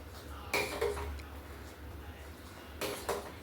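Masala tea ingredients, including crushed spices, are stirred together in a pot of water, giving a few sharp metallic clinks and scrapes in two short bursts over a low kitchen hum.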